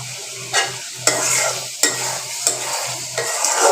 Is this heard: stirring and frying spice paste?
yes